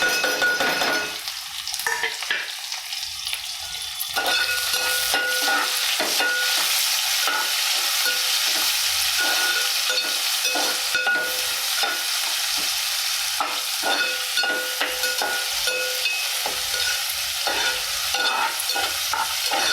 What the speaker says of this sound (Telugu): ఉల్లిపాయ ముక్కలు, పచ్చిమిరపకాయ ముక్కలు వేస్తున్నాను